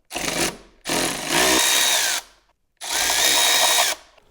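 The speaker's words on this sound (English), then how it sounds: "there is 2 27 Torx screws in the tail assembly that have to be removed" A power driver whirring loud and close as it backs out T27 Torx screws from the tail assembly of a BMW R 1300 GS motorcycle, in three sustained runs separated by brief silences.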